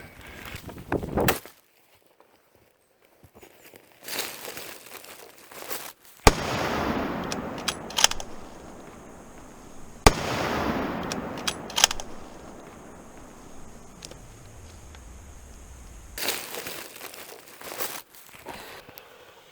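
A sharp, loud rifle crack rings out while hunting sambar deer in Australia's Victorian High Country, followed by a rolling outdoor echo, a second bang, and some rustling movement nearby.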